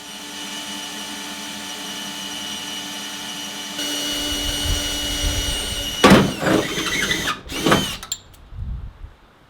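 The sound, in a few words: power drill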